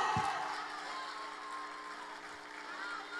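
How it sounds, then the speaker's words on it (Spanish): A church congregation applauds and cheers during a pastor's testimony service, with a steady wash of clapping and crowd noise that carries through the whole stretch, mixed with voices and faint tones. "Dale un aplauso fuerte a Dios."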